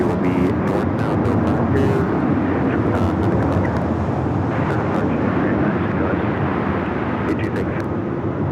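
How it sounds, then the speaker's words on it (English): Boeing 787 Dreamliner passing over runway 25 at Los Angeles International Airport at night: a steady, loud broadband engine roar that stays constant throughout, with wind buffeting and scattered crackle. "Dreamliner crossing over 25 at right, the flight coming in from Newark"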